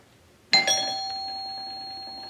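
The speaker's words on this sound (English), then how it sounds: "That was the neighbor's doorbell." A single electronic doorbell chime from a neighbor's house rings out clearly and lingers with a sustained, slowly fading tone in an otherwise quiet room.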